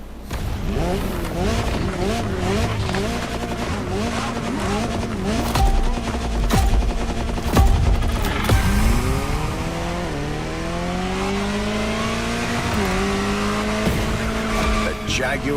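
Jaguar CX-75 concept car in The Crew video game, its engine revving up and down through gear shifts with a tire squeal, sustained and close, with a voice speaking over it.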